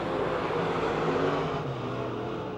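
Race cars roar around the oval at Pennsylvania Motor Speedway, a loud continuous engine drone with overlapping motors holding steady throughout.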